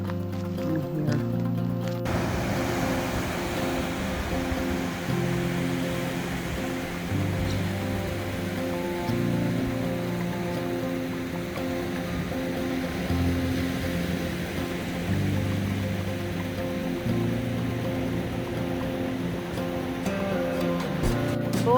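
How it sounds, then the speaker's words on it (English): Surf rolls onto Beach 4 in Olympic National Park, a steady, continuous wash of waves heard close and moderately loud, with a brief burst of brighter hiss at the start. "We're at Beach 4 in Olympic National Park, and it is a gorgeous day."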